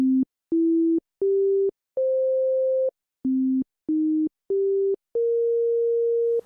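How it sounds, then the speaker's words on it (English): Pure sine tones from the Arturia CZ V software synthesizer playing a clean note sequence, eight separate steady pitches in two rising phrases of four, with the last note of each phrase held longer. "By default, the engine produces a sine wave."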